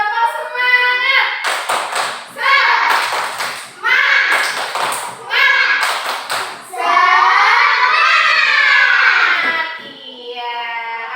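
Schoolchildren in a classroom perform a rhythmic spirit clap, bursts of group clapping in patterned beats alternating with loud chanted children's voices, ending in a long sung call.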